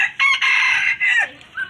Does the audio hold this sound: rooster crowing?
yes